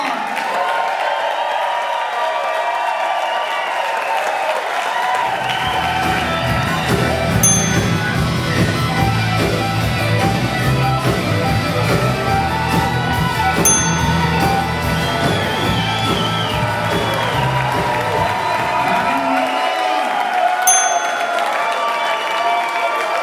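An audience at a music show gives rousing applause and cheering for the performer. Dense clapping carries mixed whoops and crowd noise, swelling through the middle and thinning toward the end, with some voices in the crowd.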